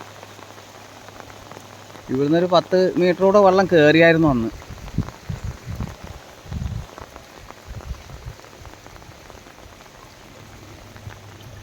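Heavy monsoon rain falls beside the flooded Kunthipuzha river in Kerala, an even, continuous wash of noise; someone speaks loudly near the start, then quieter voices and movement sit under the rain.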